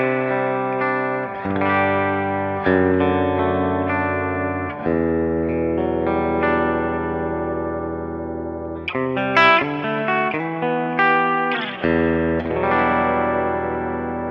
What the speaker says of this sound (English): I'll do it clean first. This is a bridge humbucker.